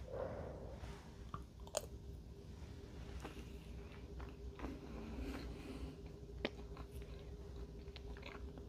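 Someone chews a mouthful of Breton potato and cabbage stew made with cider and vegetable broth, with soft, quiet, close chewing and a few faint clicks.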